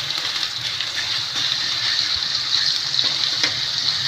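Mustard seeds, cumin and chopped garlic sizzle in hot oil for capsicum, a bright continuous hiss with faint crackles and a few sharper pops, close up and alone.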